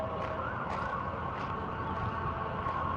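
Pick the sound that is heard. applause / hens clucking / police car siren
police car siren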